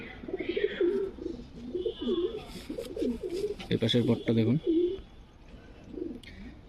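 Pigeons coo in a rolling, warbling series, close by and steady throughout, while someone talks over the birds for part of the time.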